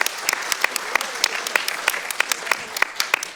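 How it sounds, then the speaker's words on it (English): People at a community leadership awards evening give a round of applause. Distinct individual claps stand out sharply over a rustling crowd bed, at a quick uneven rhythm, fairly close and alone without talk. "a round of applause, please."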